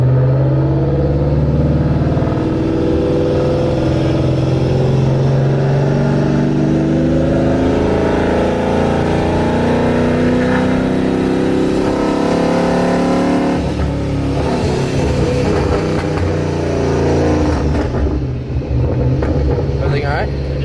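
A Paxton-supercharged Ford Mustang pulls hard through second and third gear, a loud, continuous engine drone with rising pitch, a shift break partway through and a final drop-off.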